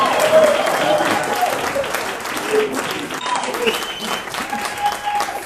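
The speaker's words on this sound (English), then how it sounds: "Can you please just give a round of applause to our brother?" An audience at a poetry book launch for the collection Oncoming Traffic applauds, with dense, sustained clapping that holds for several seconds, swells and dips, and runs under some background voices.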